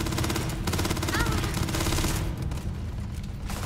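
Rapid automatic gunfire from a weapon in the space game Starfield, a dense continuous burst of shots running the full length, loud and close, with a faint voice underneath.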